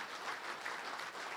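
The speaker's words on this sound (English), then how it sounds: "Good people, I want us to give Acting Governor Dr. Chipika a huge round of applause," Brief, faint burst of audience clapping at a televised debate on de-dollarization, soft and distant with no voices.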